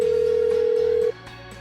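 A steady electronic phone ring tone from the video game Pokemon Shield sounds loudly for about a second, then cuts off, leaving faint low background music.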